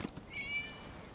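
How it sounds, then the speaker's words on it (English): A single short, faint cat meow in the video game Genshin Impact, a brief thin tonal cry over quiet background ambience. "It was just a cat."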